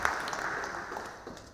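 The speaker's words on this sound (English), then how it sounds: "Round of applause again." Applause from the audience at a university science slam greets a volunteer named Greg, a steady, fairly soft wash of clapping that holds evenly through the short moment without pause.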